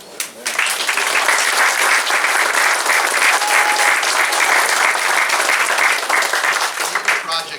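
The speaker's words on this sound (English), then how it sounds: "Give this guy a round of applause." Loud, sustained audience applause fills a ceremony hall honoring Dr. Lonnie Bunch, dense steady clapping holding for several seconds with a faint voice briefly underneath before tapering slightly at the end.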